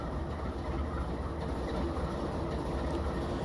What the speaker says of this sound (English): I'm talking about the Triple Crown Roadrailer trains, and it is a sad day because this is the very last train of its kind